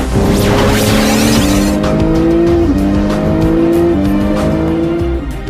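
A Porsche 911 under test drive roars loudly and steadily, its engine note stepping up and down through the gears, with a brief tire squeal near the start and no talk.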